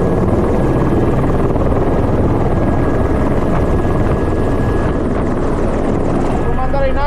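A helicopter in flight, its loud continuous rotor and engine roar filling the whole stretch close up, with a faint steady whine above the thick rumble.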